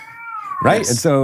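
A pet cat lets out a drawn-out meow close by, partly overlapping someone speaking in an indoor interview setting.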